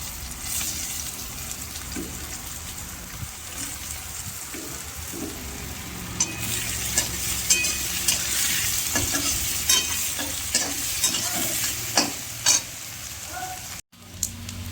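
Onions frying in hot oil while being stirred in a pan, a steady close sizzle with scraping stir strokes and small clicks of the spoon, continuous throughout.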